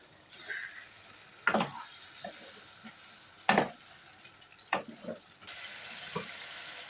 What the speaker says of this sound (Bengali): মাছের মাথা দিয়ে খুব ভালো মতো করে লাউটাকে মিশিয়ে দিচ্ছি।